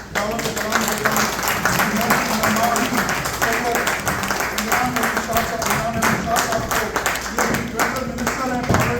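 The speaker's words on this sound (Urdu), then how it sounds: "میں آپ کی تالیوں کی گونج میں دعوت کرام دیتا ہوں" Audience clapping at a meet-and-greet event in Chicago, a steady dense patter of many hands filling the room with a murmur of voices underneath.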